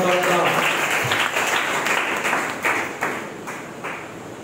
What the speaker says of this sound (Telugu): చప్పట్లు కొట్టి యేసునామమున